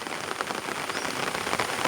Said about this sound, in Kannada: ಫುಲ್ಲು ಮಳೆ ಇದೆ ನೋಡಿ